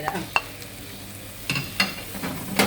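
Gravy masala sizzles in a pan as grated coconut, crushed with fennel and shallots, is stirred in for a stuffed squid filling, with scraping stirring strokes over a constant frying hiss.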